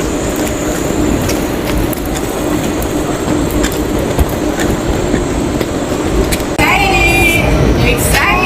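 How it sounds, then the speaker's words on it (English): A train rumbles steadily nearby with a loud, continuous roar and faint clicking of the rails, and a high squeal rises toward the end. "There's the train"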